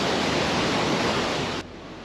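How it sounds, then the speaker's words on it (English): Kakabeka Falls cascading over 40 meters down the Kaministiquia River gives a steady, dense roar of rushing water, loud and unbroken, before it drops abruptly quieter near the end. "Kakabeka Falls, often called the Niagara of the North, cascades over 40 meters down the Kaministiquia River."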